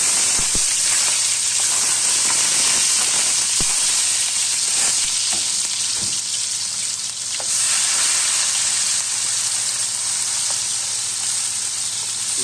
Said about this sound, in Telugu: టమాటా, పచ్చిమిరపకాయ, ఉల్లిపాయ అంతా కూడా బాగా మగ్గే విధంగా వేపుకోవాలి